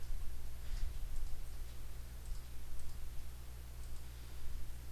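Mouse clicks in a GIMP image editor, a few faint scattered taps over a steady low electrical hum.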